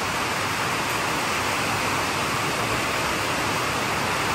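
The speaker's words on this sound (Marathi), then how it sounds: "खूप जास्त जोरात पाऊस चालू आहे" Heavy rain pours down in a dense, unbroken roar of hiss, loud and constant throughout.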